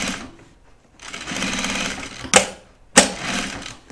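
A sewing machine stitches a project bag in a steady, fast whirring rattle that runs for several seconds, broken by a couple of sharp clicks near the end, close and clear with no talk.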